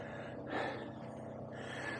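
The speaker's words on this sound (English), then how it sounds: "I'm puffing and panting, that's because I'm dreadfully out of shape" A person breathes heavily after exertion while operating a lift bridge on a narrowboat canal trip, with a sharp gasping intake and puffing breaths, close and alone, no talk.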